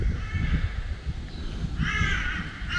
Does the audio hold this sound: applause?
no